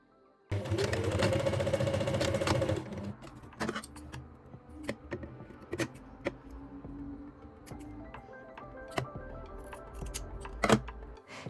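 A sewing machine stitches the bottom edge of a folded button placket for a dress, running in a fast steady whir for about two seconds, then followed by quieter clicks, taps and brief handling noises.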